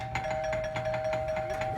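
A doorbell rings at a Filipino home, a steady bright tone with repeated pulses holding across the short moment, fairly close and clear with a low hum beneath and no talk over it.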